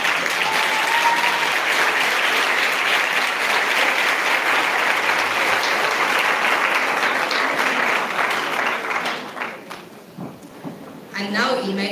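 Sustained, loud applause from a large audience giving a standing ovation to parents at a school dedication service, steady clapping that fades near the end as a voice begins to speak.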